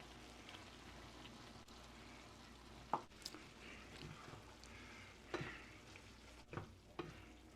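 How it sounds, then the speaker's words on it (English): Onions and jalapenos frying with browning meat in a pan for meaty baked beans, a steady quiet sizzle broken by a few sharp clicks and stirring knocks, with no talking. "We'll let the vegetables soften up a little bit as the meat continues to brown."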